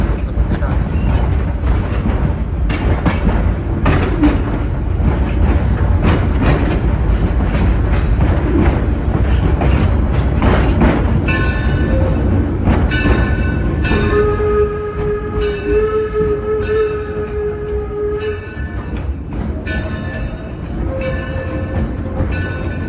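A steam locomotive pulls a train, rumbling steadily along the tracks with heavy low-end mechanical noise, a sustained tonal whine rising partway through, and some talk mixed in.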